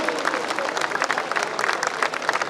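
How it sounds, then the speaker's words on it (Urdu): A crowd at a political gathering bursts into warm applause, dense, steady clapping filling the space, fairly loud and continuous with a faint murmur of voices. "ایک ایسی گرم جوش تالیوں میں مبارکباد پیش کریں"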